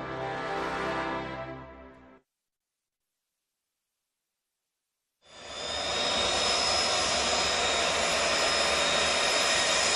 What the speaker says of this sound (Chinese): 飞机的轰鸣打破了极地冰原的寂静。